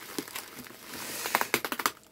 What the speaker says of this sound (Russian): Возьмем ножницы и порежем этот скотч